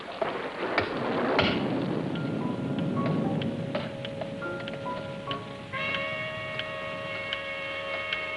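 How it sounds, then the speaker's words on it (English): Time bomb ticking in a radio drama, a soft, steady tick running through a busy background of tones and hum, with a thump early on and no clear voices. "Seems to be ticking slower."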